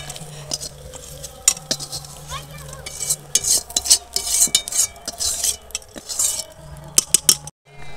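Large fried puti fish are lifted out of a kadai with a metal spatula, giving scrapes and clinks of metal on the pan over a faint sizzle of oil.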